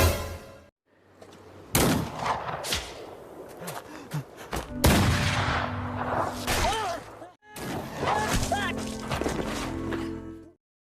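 Sniper rifle shots in a gangster action film crack sharply amid a busy soundtrack, several loud bursts and impacts separated by brief silent cuts, with whooshes and music-like tones layered between them.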